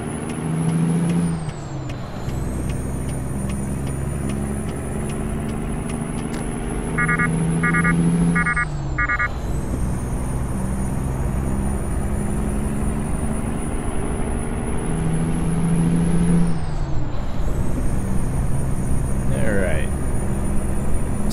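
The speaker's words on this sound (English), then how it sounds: "Man, our truck had trouble getting up that." A truck engine in American Truck Simulator drones loudly and steadily while hauling a 90,000 pound scraper uphill, with a high whine that dips at gear shifts and a few short beeping tones, under occasional talk.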